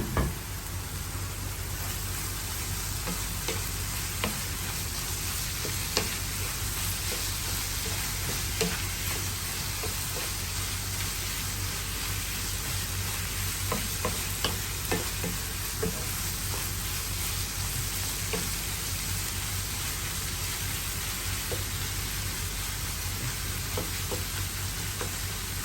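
Pancit canton with egg and sardines fries in a pan, giving a steady, close sizzle throughout with occasional light knocks of stirring and no one talking.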